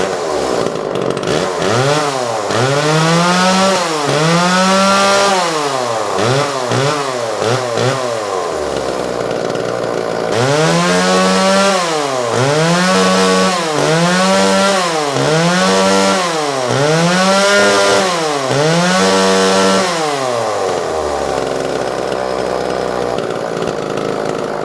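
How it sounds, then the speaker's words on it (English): A vintage Homelite XL automatic oiling chainsaw runs loud and close, its engine revving up and down in repeated surges, with a short idle dip in the middle before more throttle blips, then the engine settles at the end. "This is a vintage Homelite XL automatic oiling chainsaw."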